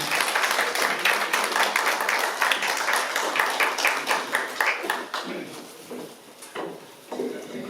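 An audience at a peace and unification lecture gives a lecturer a welcoming round of applause, dense clapping that gradually thins out and fades toward the end.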